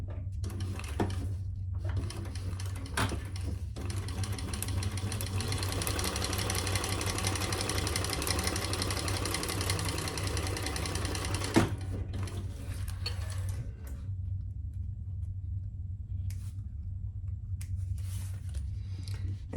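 A sewing machine stitches a quarter-inch seam allowance on a bag, a steady motor hum with rapid needle clatter for about twelve seconds, then slower intermittent bursts.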